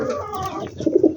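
Pet pigeons cooing close by, soft throaty warbles rising into a couple of fuller, rounded coos at the end, with no voices over them.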